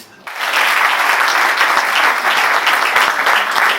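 A crowd at a trade union symposium bursts into loud, sustained applause, dense clapping filling the room almost immediately and continuing steadily.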